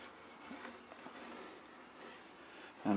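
A wooden skewer scrapes accumulated gunk from the grooves of a reed organ case being stripped, giving soft, continuous close rubbing and rasping with a brief louder knock at the end.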